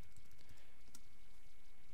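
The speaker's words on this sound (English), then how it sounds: "and then you can start typing" Soft typing on a computer keyboard while filling in forms in linguistics software, faint scattered keystrokes over a steady hiss, with one sharper click near the middle.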